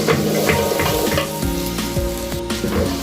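Rice fries in a pan on a clay stove while being stirred, a loud, close sizzle with scraping strokes of the spoon and a faint steady hum beneath, and no one speaking.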